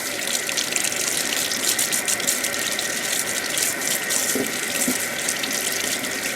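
Tap water runs steadily into a kitchen sink while radishes are rinsed, a continuous close hiss and splash with slight shifts in flow, no talking.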